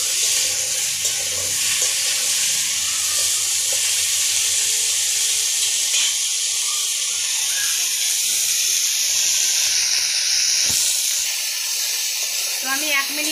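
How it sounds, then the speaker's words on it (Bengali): Potato and Malabar spinach stems frying in a pan while being stirred, a steady close hiss and sizzle running throughout with faint scraping and a few clinks near the end. "আমি 1 মিনিট মতন নাড়ি চাড়িয়ে আলু আর পুঁইশাকের ডাটা ভেজে নিয়েছি"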